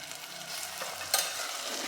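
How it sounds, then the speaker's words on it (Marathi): Ground dal being stirred into vegetables sautéed with spices for sambar rice, a soft steady sizzle with a brief scrape of the spoon against the pot partway through. "ही डाळ छानपैकी ह्याच्यामध्ये मिक्स करून घेऊयात"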